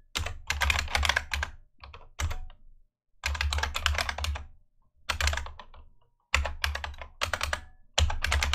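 A computer keyboard clatters in several quick bursts of typing as a shader file path is entered, each burst separated by short pauses, close and crisp with no talk.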